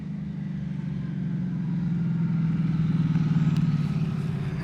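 Twin-turbo Ford Crown Victoria engine at no-prep drag testing, a loud, close, low droning rumble that holds steady and swells slightly as revs build.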